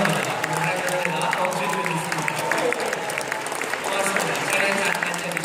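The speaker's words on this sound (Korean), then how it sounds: "뜨거운 박수 있어요." A church congregation applauds warmly, a dense continuous clatter of many hands filling the room for several seconds, with voices mixed in.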